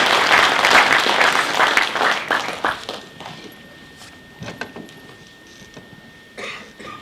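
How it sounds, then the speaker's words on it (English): An audience at a STEM festival and research symposium claps as a keynote speaker walks to the podium, loud dense applause for about three seconds that thins into scattered claps, coughs and footsteps. "May we just clap hands as he comes to the podium."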